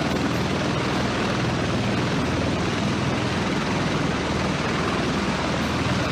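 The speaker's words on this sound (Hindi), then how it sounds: "कुछ ही पलों में यह हेलीकॉप्टर वो उड़ान भरेगा।" Helicopter taking off at the G7 summit in Canada, a steady, dense rotor and engine roar with a low chopping pulse, loud and continuous for several seconds without talk.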